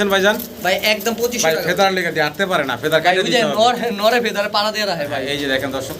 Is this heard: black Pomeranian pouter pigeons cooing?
yes